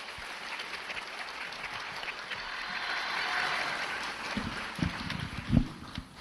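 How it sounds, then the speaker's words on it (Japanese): Applause from a lecture audience greets a speaker, steady and moderate at first, swelling slightly midway, then thinning into a few louder scattered claps near the end. "温かいご声援ありがとうございます。"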